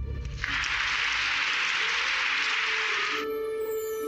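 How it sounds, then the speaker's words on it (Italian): A burst of applause rises suddenly, holds as a steady, dense clatter of clapping for about three seconds, then cuts off abruptly. "sparisce e partono gli applausi"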